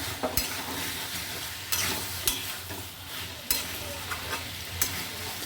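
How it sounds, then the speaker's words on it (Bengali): Kohlrabi curry frying with spices in a pan, a soft steady sizzle broken by several sharp scraping knocks as a spoon stirs and scrapes the pan, close and without talk. "খুব ভালোভাবে মশলাটার সাথে কষিয়ে নিয়েছি।"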